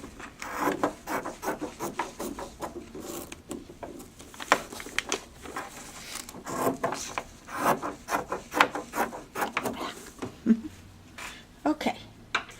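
Trimming off excess fabric and paper while paper piecing a quilt block, heard as a run of close, irregular scraping and rasping strokes, some sharp and some soft, with no voices.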